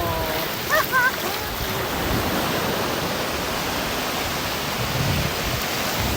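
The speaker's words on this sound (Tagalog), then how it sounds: "nag-abot ang tubig sa bukana ug sa dagat." Continuous roaring rush of water and surf where a river mouth meets the sea, loud and close, with a steady wash of noise and a brief faint voice early on.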